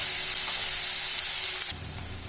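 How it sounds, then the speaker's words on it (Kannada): Chopped onion and crushed garlic frying in a pan for a mushroom gravy: a loud, dense sizzle and hiss that drops to a quieter fry near the end. "ಈರುಳ್ಳಿ, ಜಜ್ಜಿರೋದು ಬೆಳ್ಳುಳ್ಳಿ ಚೆನ್ನಾಗಿ ಫ್ರೈ ಆಗಬೇಕು."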